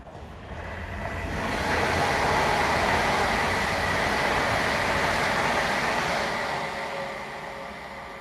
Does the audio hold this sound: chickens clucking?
no